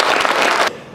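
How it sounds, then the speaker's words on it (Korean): An audience claps during a talk, a brief burst of dense applause that cuts off abruptly. "박수 한번 쳐주시죠."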